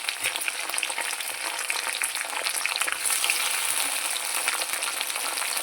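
Green chillies frying in oil with garlic, a bright, loud crackling sizzle that runs steadily throughout, crowded with fine popping, close up and without talk.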